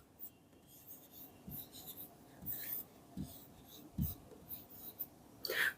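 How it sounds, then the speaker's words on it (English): Someone writes a lens physics formula by hand, producing quiet, close scratchy strokes in short irregular bursts against a near-silent background. "So we'll write the formula first."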